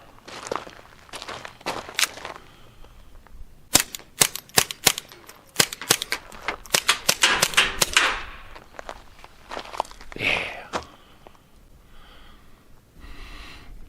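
A .22 pistol fitted with a Banish 22 suppressor firing ten rounds of CCI ammunition, heard as a rapid string of sharp, muffled cracks with mechanical clacks, close and loud, followed by a quieter breathy exhale.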